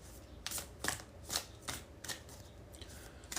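A deck of tarot cards being shuffled close up, a run of crisp riffling bursts repeating in a steady rhythm, with no talking over it.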